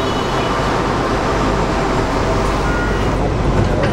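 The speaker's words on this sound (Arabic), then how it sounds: "هاد المترو هذا كبير هذا مقارنه مع هذاك الاول" Metro train at a station in Malaysia, a steady, loud rumble of the railcars throughout with no gaps and no talk, close to the listener.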